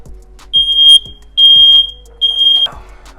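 A kitchen smoke alarm goes off during baking with three loud, shrill electronic beeps, each about half a second long, separated by short pauses over faint background clatter.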